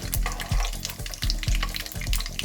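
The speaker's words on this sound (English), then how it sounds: "First thing to go in there, mustard seeds. Gotta wait for the sound." Mustard seeds crackle and pop in sizzling hot oil, close up, with a regular scraping rhythm of stirring.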